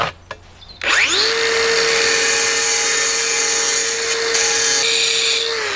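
A power tool blade spins up and cuts into the corner of a porcelain garden step at an angle, a sharp whine rising to a sustained loud grinding screech that holds steady for several seconds, close by.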